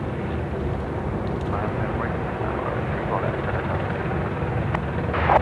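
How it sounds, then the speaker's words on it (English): A China Airlines airliner coming in to land at Sydney Airport gives a steady, broad engine roar at moderate distance, holding level throughout with a slight rise at the end. "So, Dynasty now coming in, China Airlines."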